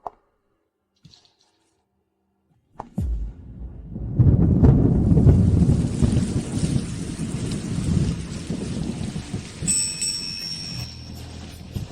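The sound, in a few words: thunderstorm with rain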